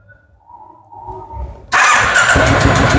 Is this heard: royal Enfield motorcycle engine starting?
yes